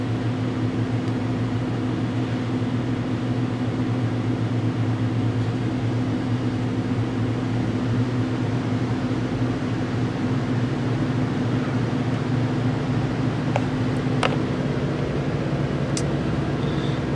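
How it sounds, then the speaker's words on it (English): Air conditioners and heaters running inside a modern railroad passenger car, a steady loud mechanical hum and whirring drone that holds unchanged throughout, with a few faint clicks near the end. "if I turn on the air conditioners and the heaters, you'll notice"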